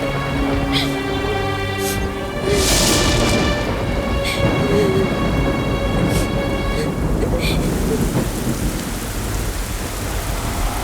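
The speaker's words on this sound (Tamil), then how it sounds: "மழை இது." Heavy rain falls steadily while thunder rumbles and cracks loudly near the start, then fades as the downpour carries on, with a faint tonal drone underneath.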